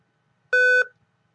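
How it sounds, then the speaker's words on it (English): A single short electronic low-battery beep from a laptop, clear and steady, sounds once in an otherwise quiet room. "figured out what that beep was. That was my laptop battery going dead"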